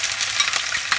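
Onions going into well-heated oil in a pan give a steady, close, broadband sizzle with a few brief crackling bursts, no voices.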